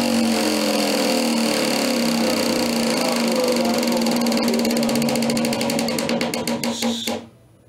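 A prize wheel spun at a New Castle wheel-spin game gives a dense, rapid run of ratcheting clicks that slowly space out as it loses speed, then stops abruptly near the end.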